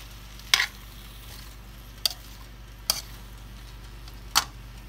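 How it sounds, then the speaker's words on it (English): Tomatoes and vegetables sizzle gently in a pan, broken by a few sharp scraping stirs as they are tossed and sautéed, close up with no talking. "we're going to add that to the mixture. And we're just going to toss and saute this together."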